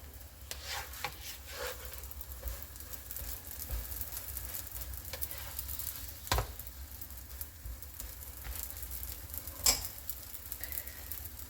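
Moroccan msemen flatbread frying on a flat griddle plate, a steady soft sizzle running throughout with occasional sharp scrapes and taps standing out above it.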